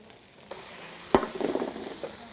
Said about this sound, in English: I just keep tossing it, stir it a little bit every once in a while.